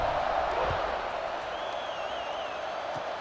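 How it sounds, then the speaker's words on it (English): Steady roar of a large college football stadium crowd buzzing after a touchdown, a dense, even wash of voices and noise with a faint whistle-like tone partway through. "this crowd is buzzing after that last score"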